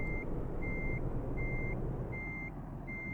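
Reversing beeps from a truck in Euro Truck Simulator 2, five evenly spaced high electronic tones over a steady low engine rumble, no talking.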